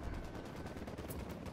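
Rapid automatic gunfire in the video game Ghost Recon Wildlands, a quick burst of shots packed closely together, faint and slightly muffled across the short stretch.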